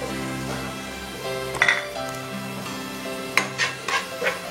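Chopped onion and green chili fry in a pan while being stirred, giving a soft continuous sizzle broken by a few sharp scraping clinks of the utensil against the pan.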